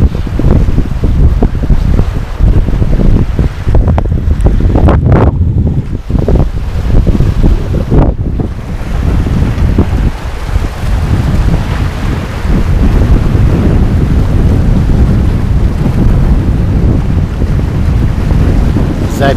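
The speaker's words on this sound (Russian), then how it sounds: "записывается фонограмма звуков на пляже внизу в 9 часов вечера 15 июля" Constant wind rumble and crashing surf fill a beach at night, with occasional gusts buffeting the microphone and faint distant sounds.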